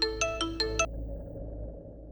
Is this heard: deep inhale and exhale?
no